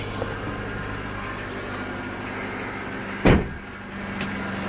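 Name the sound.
car engine starting and running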